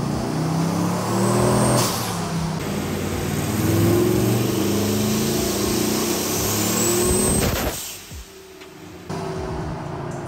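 A twin-turbo 6.0L 2006 Chevrolet Silverado on forged internals roars through a dyno pull, its engine note climbing steadily and loud, with a high turbo whistle over the top before the revs drop away near the end.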